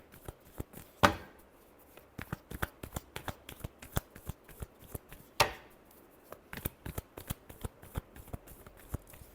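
Tarot cards are shuffled in quick, crisp bursts of riffling and slapping, close and fairly quiet, with two sharper riffles standing out among the rapid clicks.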